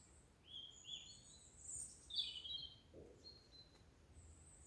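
High, thin calls from a flock of small birds passing overhead, scattered twittering notes rising and fading against a quiet woodland hush.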